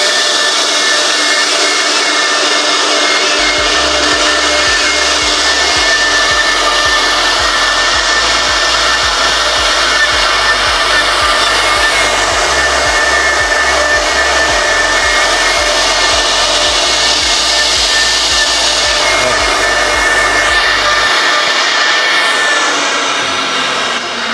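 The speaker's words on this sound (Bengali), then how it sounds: "এখন আমরা মেশিনটা একটু রান করব রান করে দেখবো আসলে মেশিনটার স্পিডটা কীরকম" A CNC wood router machine runs loudly and continuously, a steady high whine with a low pulsing hum that starts after a few seconds of quiet and stops shortly before the end, with no voices.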